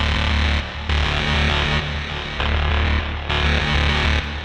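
Dirty, heavily distorted processed strings from the NOVO Modern Strings library play as a loud, sustained, gritty texture in several swelling phrases with brief dips between them, alone without talk.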